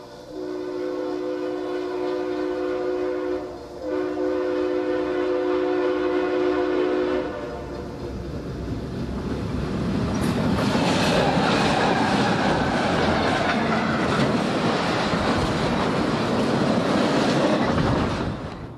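An eastbound Santa Fe mainline freight train sounds its horn, then roars past up close with rumbling wheels and rhythmic clatter that stays loud before fading slightly at the end.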